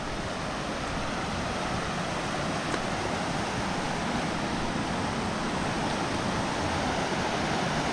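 A river runs past the Coto Mines campsite in Masinloc, Zambales, a steady, loud rush of flowing water that holds unbroken and close throughout with no voices over it.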